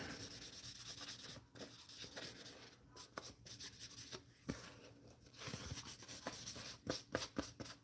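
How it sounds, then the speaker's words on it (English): Primer is hand-sanded on a Night Crawler in short, irregular scratchy rubbing strokes with brief pauses between them, close and fairly quiet. "basically like 2 seconds of sanding right there got rid of that little bit of dry spray"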